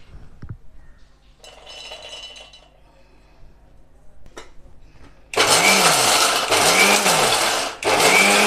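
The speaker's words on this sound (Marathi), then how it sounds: "तर शेंगदाणे आणि खोबरं बारीक करून घ्यायचं।" A mixer grinder roars loudly for a few seconds, finely grinding peanuts and coconut, with one brief dip before resuming, after quieter clinks and handling noises.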